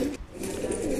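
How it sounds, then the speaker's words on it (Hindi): Pigeons softly cooing in a pigeon loft, a close, low murmuring coo that continues steadily with no talk. "ये देखिए भाई, फुलसर है कबूतरों का लॉट है"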